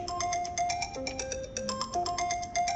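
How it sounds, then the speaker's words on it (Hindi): Electronic phone ringtone chiming for an incoming call, a repeating bright melodic pattern of short tones, steady and fairly loud with no talk over it. "फोन आ रहा है।"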